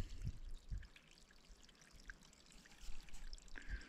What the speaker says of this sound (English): And here's the spring.